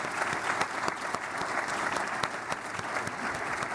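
A conference audience applauds the organizing committee at a 2018 opening plenary, dense steady clapping filling the hall throughout with faint crowd murmur beneath.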